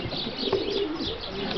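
Racing pigeon cooing close by, a soft low throaty coo in a short pulse amid faint rustling.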